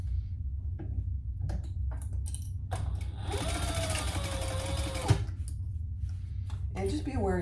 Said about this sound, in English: now we're going to sew the back panel onto each side